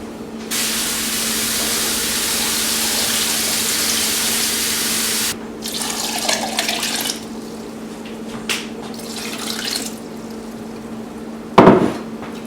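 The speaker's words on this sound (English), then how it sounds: "Now I'm going to get 10 cups of water." Water pours into a large pot for cooking, a loud steady rushing stream for about five seconds, followed by quieter sloshing, a few knocks and a sharp clank near the end.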